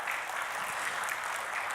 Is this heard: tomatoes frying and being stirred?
no